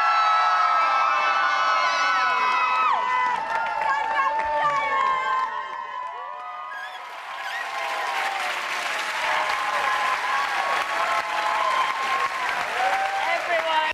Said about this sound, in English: We're going to leave you now in Rotherham with the biggest cheer you have ever heard